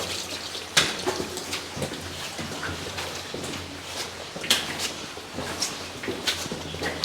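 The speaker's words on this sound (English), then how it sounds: "Well, water's running, so there you go." Steady running water trickles inside an old quarry tramway tunnel, a continuous wash broken by a few sharper splashes and clicks, with no talking.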